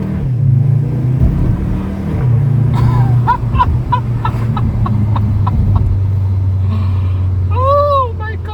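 2023 VW Tiguan R accelerating hard on a rough road, engine note rising and droning loudly from inside the cabin, with a brief chirping sound near the end and no talk over it.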